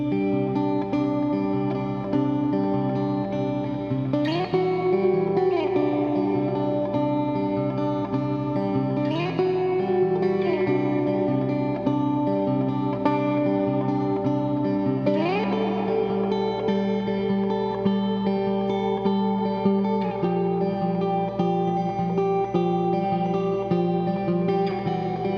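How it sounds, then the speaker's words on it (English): Sustained electric guitar chords from a Fender American Ultra Jazzmaster through a Walrus Audio R1 reverb pedal on hall setting, washed in lush, long reverb tails, with new strums every few seconds ringing out into a spacious, blooming ambience. "this is going to be more of the hall reverb."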